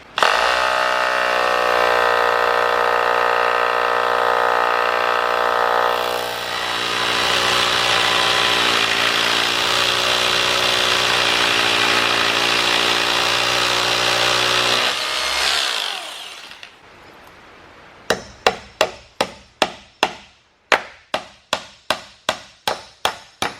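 A power drill bores into a concrete floor for anchors with a loud, sustained whining grind that shifts pitch partway through, then stops, followed by a run of sharp, evenly spaced hammer blows driving the anchors in.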